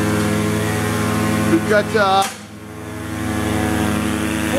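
Air-driven propellers of roughly 12 to 14 inches in a liquid mixer run with a steady, loud mechanical hum, while someone speaks briefly over it.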